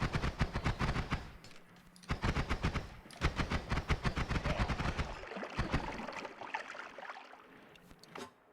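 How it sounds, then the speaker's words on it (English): Rapid gunfire bursts in the video game Noita, dense volleys of sharp shots in quick rhythmic strings with brief pauses, fading into rumbling explosions toward the end. "Let's fucking lay down some suppressive fire."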